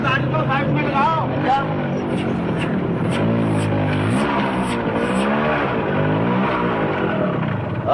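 A car races past with tyres skidding and squealing in rising and falling sweeps, loud and close, while voices talk over the engine noise.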